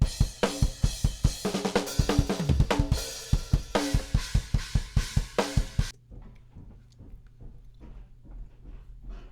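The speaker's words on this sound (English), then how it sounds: "before plugins, the drums sound like this." Unprocessed drum kit from a rock mix, dry and untreated, playing a steady beat with sharp, punchy hits throughout; a fuller stretch gives way around six seconds to thinner, sparser strikes that continue alone.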